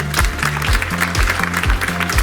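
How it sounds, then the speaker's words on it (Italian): A crowd applauds steadily under a thumping music beat at a beauty pageant, the clapping blending into a continuous wash of sound. "Un grande applauso anche a Pavin Viaggi."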